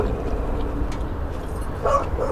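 Chester the dog lets out a couple of brief high yips and whimpers near the end, faint over a steady hum of background noise.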